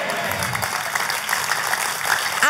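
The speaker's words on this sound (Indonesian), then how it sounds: "Kalau mau tepuk tangannya lebih meriah buat Yesus Tuhan kita." Church congregation applause, steady clapping with voices and shouts mixed in and a brief whistle-like tone near the close.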